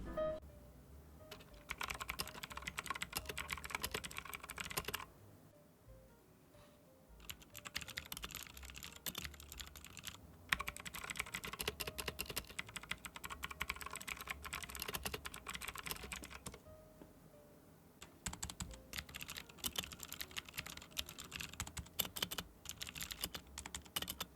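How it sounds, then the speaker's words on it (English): Steady clicky mechanical keyboard typing on Cherry MX Blue switches, fast bursts of keystrokes close to the microphone, separated by a few brief pauses. "let's do a comparison sound test of the V700RGB versus the Roxy 987 with Cherry MX Blues"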